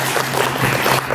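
An audience at a children's theatre show about a little adventurer girl and a volcano mystery applauds with a brief, steady burst of clapping. It sounds moderately loud and is heard alone.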